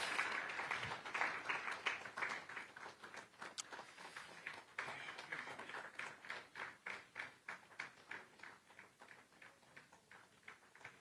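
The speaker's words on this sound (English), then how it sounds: "so you have to keep clapping more." Audience clapping at the ZEDCON 2024 conference, starting as dense applause and thinning into a steady, rhythmic unison clap that continues throughout at moderate distance.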